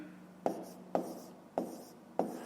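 Four short pen strokes scratch across paper at a steady pace, each a brief crisp rub with a quiet pause between, close by and alone with no talking.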